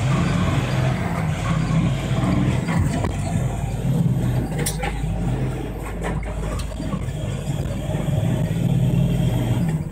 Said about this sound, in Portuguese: os caminhoneiros aproveitaram para acelerar e fugir